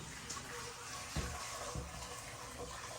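Juice from a beef pot roast pours through a kitchen strainer in a steady, soft liquid rush, with a couple of brief clinks of the strainer partway through.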